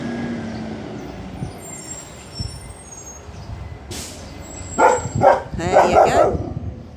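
A German Shepherd dog gives a short series of loud, close barks toward the end, following a stretch of low rumbling background noise.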